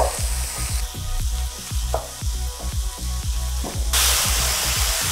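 Mushrooms and vegetables for a veggie stir fry crackle and hiss over high heat, with a steady sizzle, utensil scrapes, and a sudden louder burst of frying near the end.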